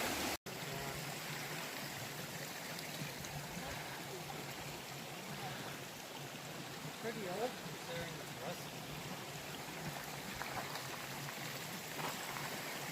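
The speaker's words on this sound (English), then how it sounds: "Nice little babbling brook off to our side." Babbling brook feeding North Cheyenne Canyon Creek beside a hiking trail, a steady faint wash of running water that continues evenly throughout with no break.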